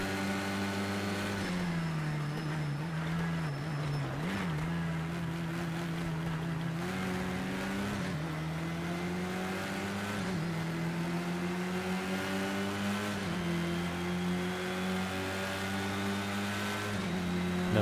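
Stock race car engine in Project CARS 2, a close, steady droning hum whose pitch rises and dips with throttle changes as the car runs behind turbocharged rivals.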